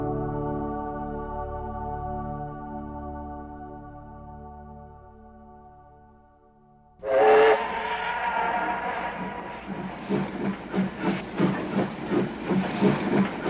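A steam train whistle sounds as a long sustained chord that fades away, followed by the rhythmic chugging and hiss of the engine getting under way.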